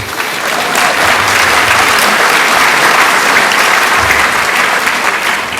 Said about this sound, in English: you can clap for that, sure.